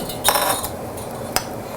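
A whisk clinks against a pot or mug, mixing honey into almond milk peppermint hot chocolate, with two or three sharp metallic taps over a soft background.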